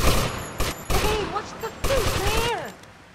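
Gunfire in the GTA Vice City video game, with short loud bursts of shots at close range arriving in quick clusters, mixed with game sounds and fading toward the end.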